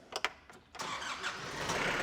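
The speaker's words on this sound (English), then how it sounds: "Next, start the tractor." A Yanmar YM3 series tractor's starter cranks in a few short bursts, then the engine catches and settles into a steady, fairly loud running rumble.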